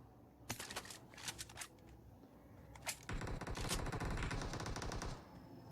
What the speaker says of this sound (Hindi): सामने से आती है गाइस फायरिंग की साउंड